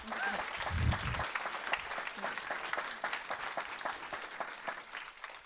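An audience at a startup pitch event applauds the startups and jury with dense, steady clapping that carries on throughout, moderately distant, while a speaker's voice briefly cuts in at the start.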